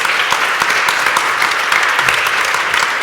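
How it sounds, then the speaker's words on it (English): Steady, close applause from an audience at a workplace panel event on period-friendly workplaces, continuous clapping with no talk over it. "Your applause."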